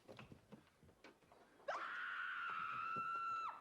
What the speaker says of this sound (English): Scream and keep screaming